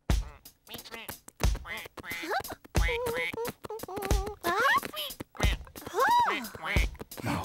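A cartoon mouse voice imitating a duck's quack, a string of bright nasal quacks mixed with an adult narrator's speech in a children's cartoon, close and clear.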